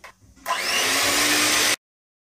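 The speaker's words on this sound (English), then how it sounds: "I'm going to use the whisk to make it very creamy, light and fluffy." An electric whisk creaming butter and sugar for a cake runs as a loud, steady whirring drone for just over a second after a brief quieter start, then cuts off abruptly.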